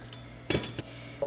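A knife cuts through rolled-out dough for Ghanaian chips on a hard board, giving a short firm thud-and-clink near 0.5 s, a smaller tap around 0.8 s and another near the end, close and fairly quiet with no talk.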